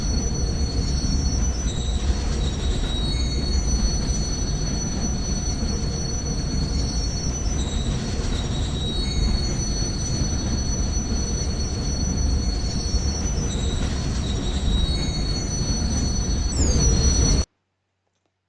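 A train runs steadily along the rails with high, sustained metal wheel squeal layered over a continuous low rumble, loud and close for nearly the whole stretch before cutting off abruptly.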